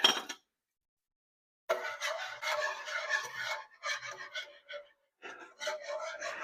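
A whisk scrapes and clinks against a pan while stirring heavy whipping cream over lowered heat for fettuccine alfredo, in close, busy bursts of metallic rubbing with brief pauses between them.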